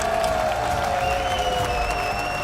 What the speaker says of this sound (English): Est-ce qu'on peut les applaudir encore une fois, les optiques?